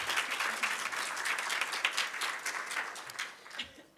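Audience applause at an NHS England award presentation, a dense patter of many hands clapping steadily and fairly near, tapering off slightly at the end.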